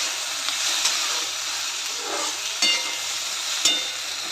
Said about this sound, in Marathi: आता यामध्ये कढईमध्ये तेल घालून आपण गवारी घातलेला आहे।